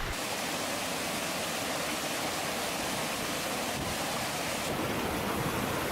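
Water of the Canal du Plan flowing back into the river makes a constant broadband rushing wash, loud and close, unbroken for the whole stretch with no voices.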